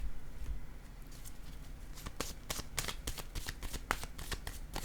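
Tarot cards riffled and shuffled close up, a rapid soft fluttering patter that grows busier and crisper halfway through, with light taps as cards are laid down; no voices.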